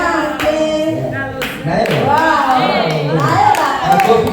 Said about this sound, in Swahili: Makofi kidogo, tushangilie kwa makofi